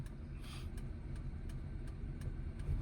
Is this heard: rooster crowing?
no